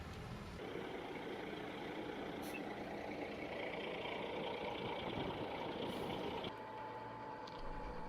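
A forklift engine drones steadily, moderately close, as the machine moves in to lift a Boeing airliner wing section during aircraft demolition, cutting off near the end with faint clanks.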